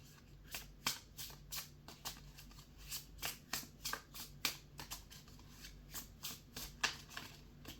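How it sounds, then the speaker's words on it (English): A deck of Illuminati cards is shuffled by hand in quiet, rapid riffles and flicks, a faint, steady run of papery snaps lasting several seconds. "Got some Illuminati cards here. Give them a go. Bit easier to shuffle."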